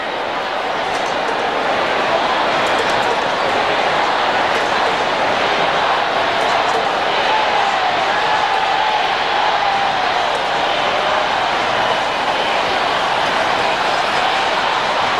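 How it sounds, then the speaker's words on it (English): A hostile cricket crowd in Barbados chanting, heard as a dense, continuous roar of many distant voices that stays steady and loud throughout. "They're chanting, "We want Campbell.""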